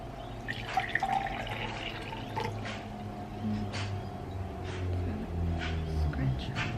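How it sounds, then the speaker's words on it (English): Water is poured into a drinking glass in a home kitchen, a light, continuous trickle with small splashes against a quiet room hum, with faint voices underneath. "I'm going to pour myself a nice glass of water."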